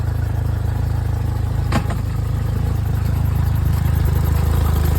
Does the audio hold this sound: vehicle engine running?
yes